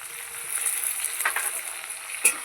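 Chopped onion and green tomato fry in tempered oil with a soft, steady sizzle close by, and a brief clink near the end.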